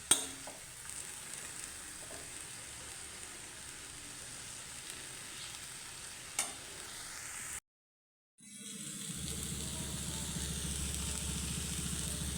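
Leafy greens (shak) fry in a pan while being stirred, giving a soft, steady sizzle with occasional faint scrapes. Partway through the sound cuts to a brief silence, then returns as a broader, louder hiss.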